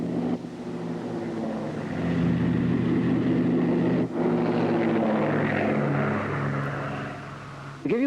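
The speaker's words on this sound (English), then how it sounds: "For other passenger transportation, Schreiner Aero Contractors use the type Dove, which is an ideal executive aircraft" A de Havilland Dove executive propeller aircraft from around 1960 flies past, its engines producing a steady, droning hum that swells in the middle and then eases back, heard alone at moderate distance.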